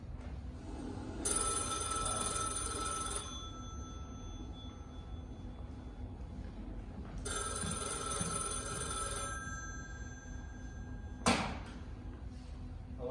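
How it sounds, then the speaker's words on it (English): A telephone bell ringing in a stage play scene, two long bursts of bright ringing separated by a pause, followed by a sharp knock or clatter, with no talk. "I'm sorry I couldn't pick up the phone sooner"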